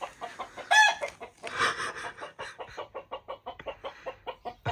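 A chicken clucking from under a house, right beneath the bedroom, in a series of close, rhythmic clucks with a louder squawk near the start, no talk.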